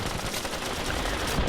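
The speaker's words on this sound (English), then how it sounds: "I combined the regular armor impact effect with explosions" Armor impact and explosion effects in a Battlefield Vietnam mod, a dense continuous barrage of rapid gunfire-like bursts and blasts, loud and unbroken with no talk.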